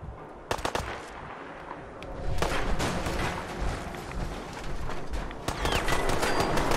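A Fallout 4 companion named Kit fires rapid bursts of gunfire in dense, crackling volleys. The automatic shots come close together, with a few louder cracks standing out from a continuous barrage.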